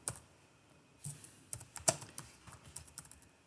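Fingers type on a computer keyboard in short, irregular bursts of close, crisp keystrokes, with one sharper key strike in the middle. The background is otherwise quiet.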